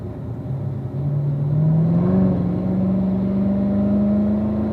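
A car engine on a race track at Ron Fellows, revving steadily and climbing in pitch as it pulls through the gears, a continuous moderately loud drone heard from inside, with no talk.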